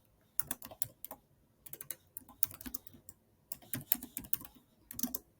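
Fingers type on a computer keyboard in quick bursts of clicking keystrokes, separated by short pauses, close and clear with no talk.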